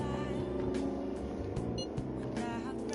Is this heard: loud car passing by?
yes